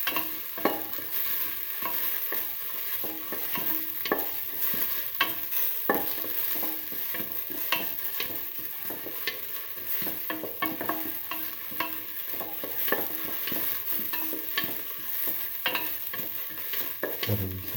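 Onions and fennel seeds with salt sauteed in a pan, giving a continuous soft sizzle under frequent quick scraping and tapping stirs, close-up, with no one talking.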